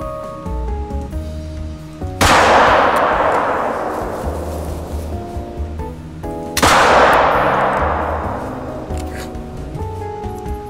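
Two loud hunting-rifle shots ring out in a hunting video game, each a sharp crack trailing into a long, fading echo, spaced a few seconds apart over a quiet background.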